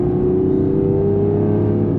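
An Aston Martin V12 Vantage S engine holds a steady, loud, droning tone with a strong even hum, heard from inside the car at speed, with no talking.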